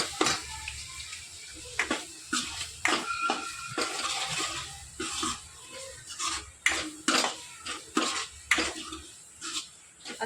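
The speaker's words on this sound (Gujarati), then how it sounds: "આપણે થોડી વાર આને હલાવતું રહેવાનું છે આવી રીતે" Onion masala for pav bhaji being stirred in a pan, with irregular scrapes and clinks of a spoon against metal over a low sizzle, close up and uneven in rhythm, with no speech.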